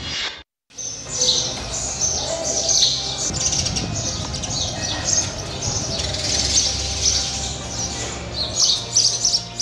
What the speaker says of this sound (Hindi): जगह जगह गौरैया के झुंड यहाँ आपको देखने को मिल जाएंगे।